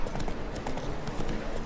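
Horse hooves galloping in The Witcher 3, a quick rolling clip-clop rhythm of hoofbeats over dirt, steady and fairly close for a brief stretch.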